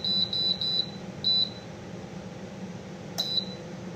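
A kitchen appliance being set to 450 degrees gives a few quick high-pitched beeps in a row, then another beep, a pause, and one last beep over a low steady hum.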